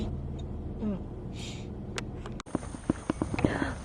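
Hooves of a walking donkey clip-clop on the ground near a fence, a few irregular steps in the second half over faint outdoor background noise and brief other sounds.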